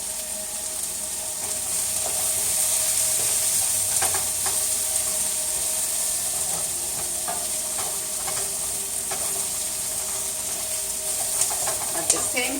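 Vegetables sauté in a hot pan for a gnocchi dinner, giving a steady, moderately loud sizzle with occasional stirring scrapes and clatters and no talk.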